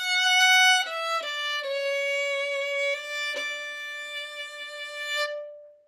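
A bowed string instrument plays a short melodic phrase of a few sustained notes, clear and close, ending with an abrupt stop.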